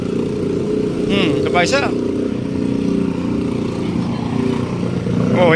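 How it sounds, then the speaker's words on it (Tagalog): Motorcycles ride through a flooded road near a Malabon fishport, their engines droning steadily close by, with a few sharp revs partway through, while someone talks over the noise. "may mga motor talagang kailangan is matindi yung makina niya rito"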